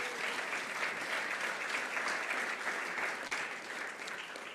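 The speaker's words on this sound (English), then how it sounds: "give yourselves a round of applause" Sustained applause from an audience at the CU 2021 Gotham Great Celebration gala, dense and even throughout with a slight fade at the end.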